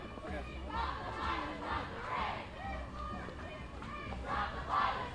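A crowd of student protesters at Syracuse, rallying over sexual assault allegations, shouts and chants in rhythmic waves, loud and reverberant, with voices rising and falling together throughout.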